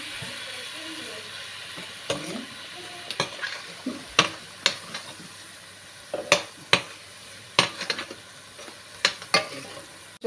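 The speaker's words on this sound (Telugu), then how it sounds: "బంగాళదుంప అండి, ఈ 2-3 మిక్స్ చేసి ఫ్రై చేస్తున్నాను" Potatoes and tomato frying together in a pan for a vegetarian curry, a steady sizzle broken by repeated sharp scrapes and clacks of a spoon stirring at an uneven rhythm, close and fairly loud.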